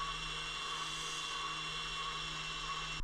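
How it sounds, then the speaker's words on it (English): A Scotch-Brite belt sands a steel karambit blade to a satin finish, giving a steady, loud abrasive whir with a constant motor hum that runs unbroken and close for the whole stretch. "I use a Scotch-Brite belt to smooth out the finish to leave me with a beautiful satin finish"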